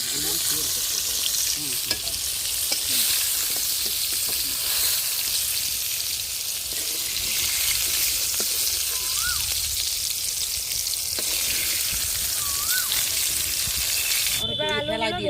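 Pointed gourd (potol) pieces frying in a pan for a village-style dish, a steady broadband sizzle running throughout, with a few brief stirring clatters and a short burst of other noise right at the end.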